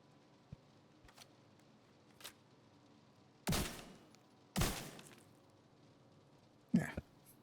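Video game gunfire at a target comes as a few sharp shots, two loud bursts near the middle and one at the end, separated by quiet gaps with faint smaller clicks, and soft speech sits underneath.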